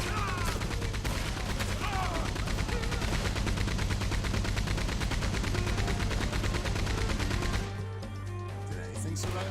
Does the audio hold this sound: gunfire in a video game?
yes